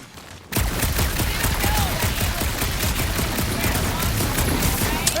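Rapid, dense volleys of gunfire from Marvel's Guardians of the Galaxy video game crackle loudly and continuously after a brief quiet start, a sustained barrage with a faint whistling tone woven through the clatter.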